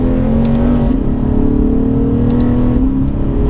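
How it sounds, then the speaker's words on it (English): A Lexus RC-F V8 holds a loud, close, steady rumble that swells slightly as the revs rise and ease, with no talking over it. "you're in a pretty crazy sports car that has an awesome V8 rumble to it"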